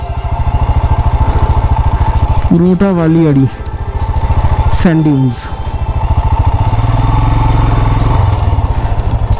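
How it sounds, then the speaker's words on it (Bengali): A motorcycle engine idles loudly and steadily on the sand dunes of Hunder, Ladakh, its even mid-pitched throb running throughout while someone talks over it. "কিন্তু ইঞ্জিন বন্ধ করব না"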